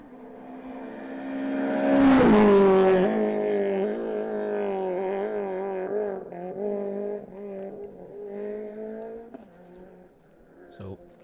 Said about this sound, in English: listen out for that very distinctive sound of the Peugeot